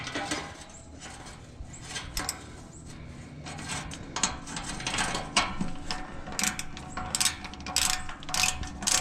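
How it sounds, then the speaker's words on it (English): Ratchet wrench turning a bolt on a car muffler, busy bursts of metallic clicking repeated over several seconds, close and fairly loud, with a metallic rattle in between. "Never used this ratchet before at the house"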